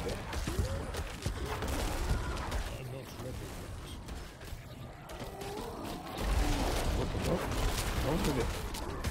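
Video game gunfire in Diablo rattles in dense, continuous bursts with heavy booming impacts, and players talk over it throughout.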